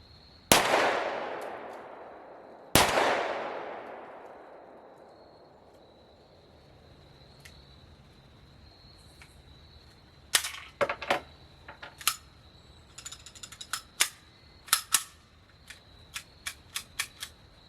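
A SIG pistol fires during a benchmark shooting drill at a range, with two loud, sharp shots ringing out a couple of seconds apart, followed by a scatter of fainter clicks and metallic ticks.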